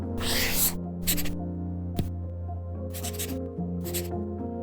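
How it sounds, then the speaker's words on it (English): A stylus scratches across a Remarkable Paper Pro paper tablet in short, dry bursts of writing strokes separated by pauses, close and quiet over a faint steady hum. "It's the sound of the new Remarkable Paper Pro, rewriting the future."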